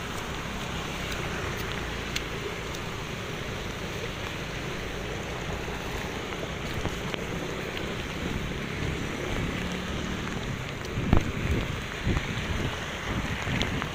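Feet wading along a flooded road on Vicas Avenue after a motorbike broke down, a continuous close splashing and sloshing wash of water with occasional louder splashes toward the end.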